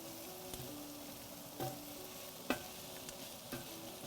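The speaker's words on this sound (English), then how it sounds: "I think we'll do a quick stir again" Tomatoes are stirred in a pot of seafood chowder base, a steady sizzle running throughout under several scraping strokes of a spoon, close and moderately loud with no talking.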